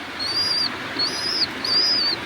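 Pet pigeons calling in three evenly spaced, drawn-out high-pitched notes over a soft background hiss, fairly close and with no voices.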